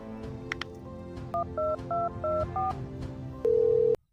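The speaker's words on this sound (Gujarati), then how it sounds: "ફોન કરું છું" A run of short touch-tone beeps, five or six evenly spaced keypresses, then one longer steady tone, all over a low murmur of background sound.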